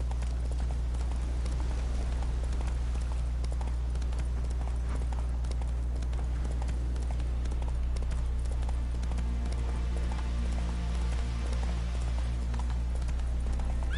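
Roach, a horse in The Witcher 3 video game, galloping: steady rhythmic hoof clip-clops sound over a constant low rumble throughout, with faint talk.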